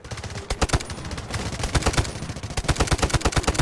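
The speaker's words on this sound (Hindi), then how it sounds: "ये बहुत छुप के जो मार रहे हैं ना गोलियां, इनसे बचना चाहिए।" Gunfire in the Delta Force video game: dense, rapid bursts of automatic shots crack without pause, loud and close, with no talk over them.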